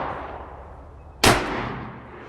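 A single loud, sharp shot from a Smith & Wesson Model 29 .44 Magnum revolver at a shooting range, cracking out over steady background noise and ringing away afterward.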